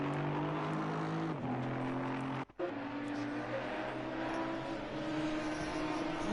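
A GT4 race car pulls out of the pits at Silverstone in a racing video game, its engine droning steadily with a shifting pitch and one brief gear-change dip, alongside other car noise.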